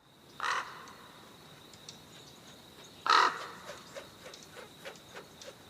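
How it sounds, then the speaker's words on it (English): A crow caws twice, clearly and fairly close, with a long quiet gap between the calls and faint small ticks and rustles in the background. "a crow went flying by him over his head, and the crow called"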